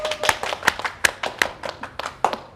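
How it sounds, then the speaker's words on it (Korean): A small audience at a youth lecture event gives sparse, distinct hand claps, about a dozen crisp claps in an uneven rhythm, close and fairly loud. "큰 박수 부탁드리겠습니다"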